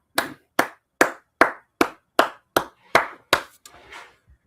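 Hands clap nine times in a close, sharp, evenly spaced rhythm, each clap loud and crisp, before trailing off into faint rustling with no voices.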